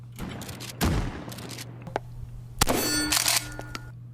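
A real shotgun firing slug rounds outdoors, with two loud, sharp blasts about two seconds apart, each trailing off in a ringing echo, and no talking.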